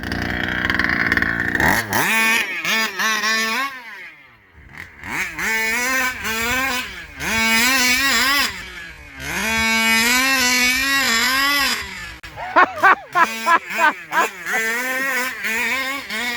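A gas-powered Rovan RC car with a ported 30.5cc engine screams through repeated hard accelerations, loud rising whines that drop off briefly between bursts, ending with quick sharp blips of throttle.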